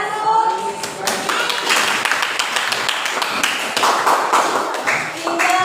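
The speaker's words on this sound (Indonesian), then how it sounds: "tepuk tangan dulu." A class of seventh-grade students claps their hands together indoors, a burst of quick, sharp, uneven claps that starts after a moment of talk and continues steadily to the end.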